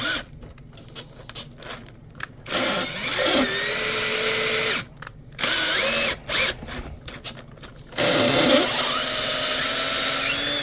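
A power drill with a tight-fitting bit whirs in several loud bursts separated by short pauses, close by, with rattling and handling noises between runs, during repairs on an RC boat.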